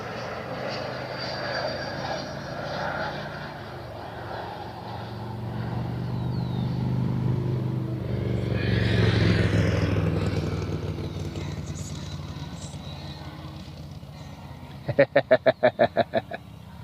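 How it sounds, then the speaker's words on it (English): A motorcycle rides past near a Cleveland Hopkins airport plane-spotting spot, its engine roar swelling to a peak midway and then fading, over steady background rumble, with a short run of sharp rhythmic pulses at the end. "Motorcycle driving by, listening to some Lynyrd Skynyrd."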